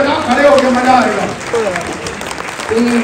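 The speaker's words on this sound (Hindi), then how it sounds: "ताली बजाओ, खड़े होके मजा आएगा" Audience clapping at a live Indian event with a retired foreign service officer as guest, mixed under loud talking from a host, with the applause filling the gaps between voices.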